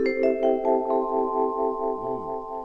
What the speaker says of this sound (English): Now, when I turn the motor on, it sounds like this.